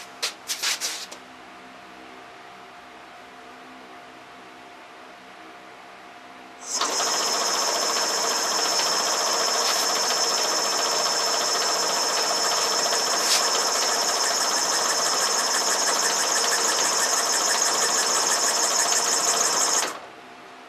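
An old Shopsmith jigsaw, restored after forty years, starts up and runs at 900 RPM, giving a loud, steady, buzzing mechanical chatter that holds even for about thirteen seconds before it shuts off.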